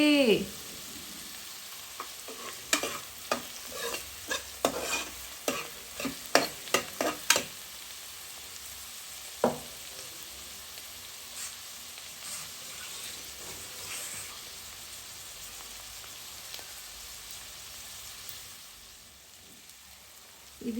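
Plentiful onions frying in a pan for a country chicken curry make a continuous close sizzle, broken in the first half by a run of sharp clanks and scrapes from stirring.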